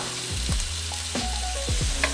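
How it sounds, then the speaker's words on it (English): Garlic and thyme frying in butter, with a busy, constant sizzle and several short clatters of stirring or a pan being moved, up close and with no talking. "Then we'll throw our thyme in there, fry that up."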